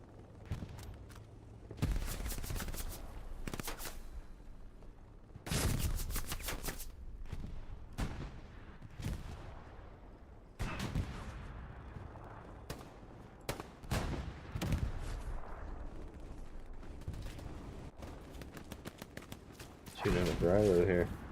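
Gunfire in Hell Let Loose at night near Kursk, sharp bursts and single shots cracking at varied distances, some loud and close, spread across the clip with voices talking between them.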